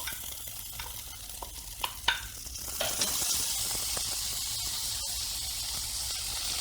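Washed Egyptian rice tumbles into browned vermicelli frying in a pan for koshari, followed by steady sizzling and a few sharp scraping stir clicks, close and without talk.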